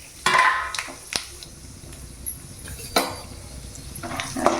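Chana dal, urad dal, mustard seeds and peanuts fry in hot oil, giving a soft steady sizzle broken by several sharp clinks and scrapes of a spoon against the pan, close by with no talking.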